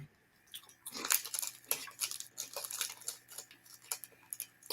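Close crunching of a crispy, soy sauce–flavored snack being bitten and chewed, irregular brittle cracks repeating over several seconds in a quiet room.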